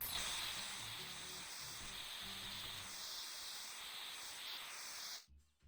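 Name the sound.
red spray paint spraying in the video game Workshop Simulator VR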